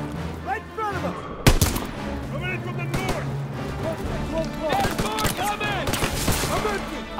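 Call of Duty WWII gunfire: rapid, loud rifle and machine-gun shots crack repeatedly over shouted voices in a chaotic battle, with one especially sharp near blast.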